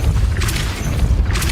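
A Depulso spell cast in Hogwarts Legacy lands as a single deep, muffled boom with a short rumbling tail.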